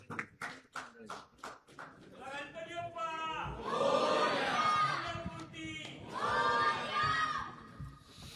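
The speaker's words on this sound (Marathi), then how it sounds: "जरा जोरदार टाळ्या." A crowd at a Ganesh festival mandal celebration in Mumbai starts with a few scattered claps, then breaks into loud cheering and children's shouting that rises in two big swells, with chatter mixed in.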